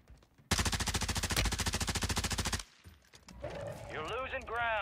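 A Tempus Razorback rifle in Warzone 3 fires one rapid, evenly paced automatic burst of about two seconds, loud and close, before it cuts off and a voice talks over the game noise.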